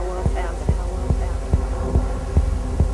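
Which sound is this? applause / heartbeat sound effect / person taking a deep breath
heartbeat sound effect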